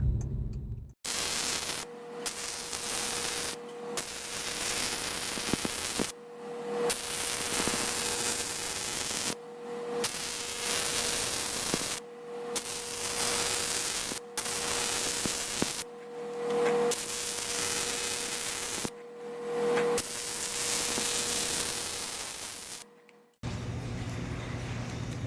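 Arc welding on cast aluminum in a shop: a steady crackling hiss with a faint hum runs in bursts of several seconds, broken by short silent pauses between passes, with no talking.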